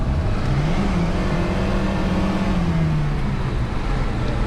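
A Lada car engine pulls hard on the Nürburgring, a loud, steady mid-pitched drone that climbs gradually and holds without a break throughout.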